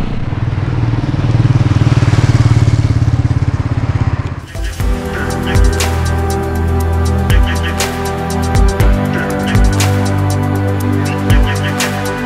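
A Royal Enfield Meteor motorcycle passes close by with a loud engine rush, then settles into a steady, thumping idle with a rhythmic beat.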